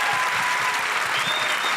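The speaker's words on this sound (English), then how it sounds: "Okay, clap, please." An audience at an outdoor stand-up comedy show breaks into brief, steady applause, a dense patter of clapping with no voices over it.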